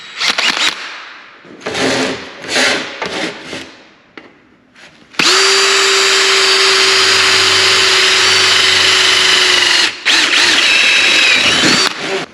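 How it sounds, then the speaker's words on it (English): A power drill boring holes in a small steel panel for spot welds, starting with a few short bursts and scrapes, then a loud sustained whine for about five seconds, a brief pause, and another close, loud run. "then I drilled some holes in it for some spot welds"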